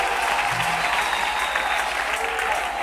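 A church congregation applauds steadily, a dense, continuous wash of clapping from a crowd that holds throughout without a break.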